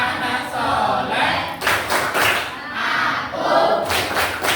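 A group of children clap the tepuk anak soleh rhythm, loud bursts of patterned clapping in quick sets with short pauses, close and lively.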